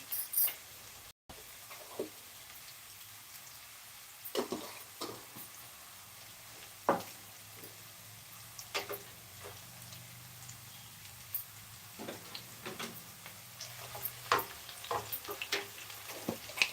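Mustard seeds and cumin sizzle in hot oil with a steady low hiss, while scattered sharp crackles and pops burst out irregularly and fairly close.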